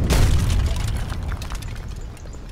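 A Flaming Arrow artillery piece fires in Age of Empires III during a competitive match, a sharp booming blast at the start that decays into crackling, rumbling debris over a couple of seconds.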